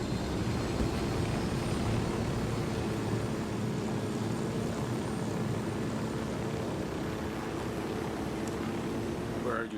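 Steady aircraft engine drone during flight in the Ghost Recon video game, a constant low rumble with a faint higher whine that holds at an even level throughout, with no other sounds breaking through.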